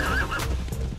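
A horse whinnies loudly and close by in a short rising-and-falling neigh, part of a pretend horse ride, followed by low muffled rumbling.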